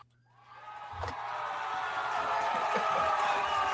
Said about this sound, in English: Let me get a cheer for that